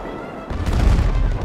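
A heavy cannon blast booms in GTA 5 during a pirate-ship battle, kicking in abruptly after a quiet start and rolling into a loud, sustained low roar.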